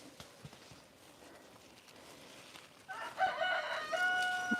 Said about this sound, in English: There's my rooster.